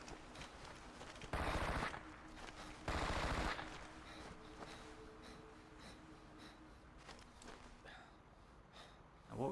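Gunfire in the Xbox military shooter Ghost Recon 2: Summit Strike, two loud sustained bursts of automatic fire, each about half a second long, over a low ambient game hum.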